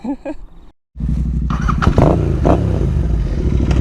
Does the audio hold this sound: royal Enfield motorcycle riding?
yes